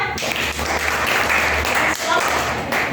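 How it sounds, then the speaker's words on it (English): Students in a classroom applaud a classmate, a dense burst of clapping that fills the room at close range with voices mixed in underneath. "Clap for her."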